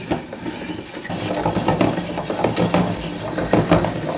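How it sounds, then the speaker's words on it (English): Hand-cranked spool winder winding 3D printer filament onto a new spool, giving a steady, close mechanical whirring with ratchet-like clicks and faint knocks that last the whole time. "let's grab the crank handle and wind the filament onto the new spool"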